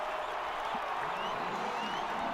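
Brazilian fans in a stadium at a France vs Brazil football match roar and applaud after a goal, a dense, continuous crowd wash heard from a distance.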